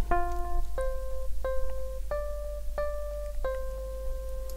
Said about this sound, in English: it's the first two bars of the traditional nursery song Twinkle Twinkle Little Star